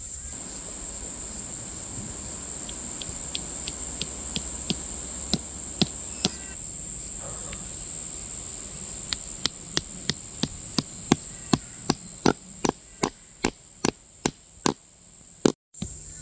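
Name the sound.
hammering tent stakes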